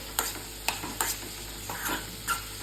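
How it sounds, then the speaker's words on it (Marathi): Green tomatoes soften in a pan over low heat, with a faint sizzle and several light stirring scrapes and clinks spaced through the short stretch. "असे सॉफ्ट होईपर्यंत आपल्याला हे मंद आचेवरती शिजवून घ्यायचं आहे"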